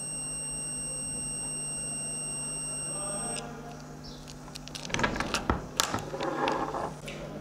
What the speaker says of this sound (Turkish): Kontaklar evet kapandı ve buzzer'ım ötüyor.